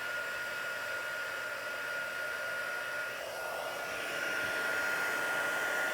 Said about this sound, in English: So, get my heat gun. Sorry if this is a bit noisy.